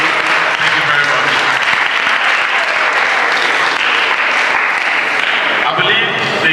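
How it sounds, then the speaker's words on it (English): Loud, sustained audience applause for bank presenters at a college financial literacy event fills the whole stretch, with dense clapping and crowd noise throughout. "A round of applause for Zenith Bank and Adudu"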